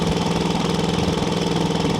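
A 1987 Chevrolet Blazer's engine and exhaust drone steadily while driving at speed on the road, a continuous loud low rumble with no talk.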